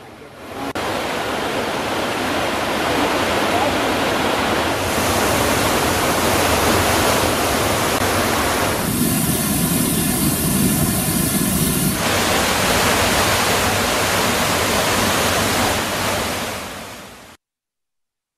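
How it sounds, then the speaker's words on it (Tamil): A waterfall in the Nilgiris gushes heavily after heavy rain, its water overflowing the falls. A loud, unbroken rushing roar fills the whole clip and shifts slightly in tone midway, with no voices. "மெயினருவி உள்ளிட்ட அனைத்து அருவிகளிலும் பாதுகாப்பு வளைவை தாண்டி தண்ணீர் ஆர்ப்பரித்து கொட்டி வருகிறது."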